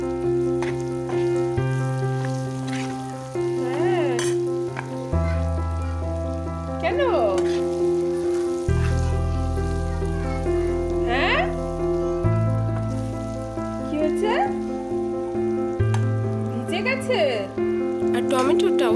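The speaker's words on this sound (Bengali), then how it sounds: "সবগুলোকে একসঙ্গে এবার ভালো করে আলুর সঙ্গে মিক্স করে নেব আর একটু নেড়েচেড়ে নেব।" Potatoes frying with cumin, chili and coriander powder, a steady loud sizzle with stirring scrapes throughout, under background music and a talking voice.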